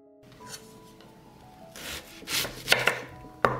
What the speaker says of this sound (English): I will cut 1 onion and 2 sticks of celery